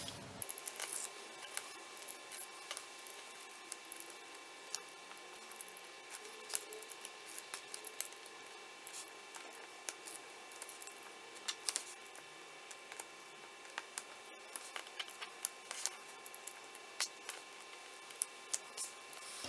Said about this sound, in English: next thing to do is peel off all the release paper everywhere